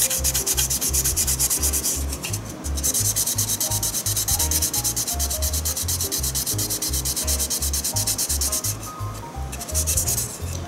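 Steady back-and-forth rubbing of 800-grit sandpaper on a 1/24 Aoshima plastic model car body, a Liberty Walk LB Works R35 GT-R, close and continuous with a fast even rhythm and no talk.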